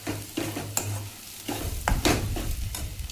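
Dilpasand vegetable with tomatoes and crushed peanut powder roasting in a pan, with scraping stirs and gentle sizzling in close, uneven bursts and no talking.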